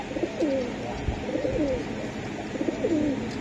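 Repeated throaty coos from a male Pakistani teddy pigeon, several rolling phrases in a row, close and moderately soft.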